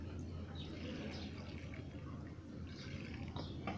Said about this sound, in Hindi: हिनखे असां ॾियूं था पाणी।